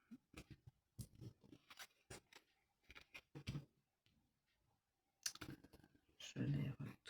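Oracle cards are flipped and laid down on a table in a run of sharp, close clicks and light slaps with irregular gaps, and a quiet voice speaks between them.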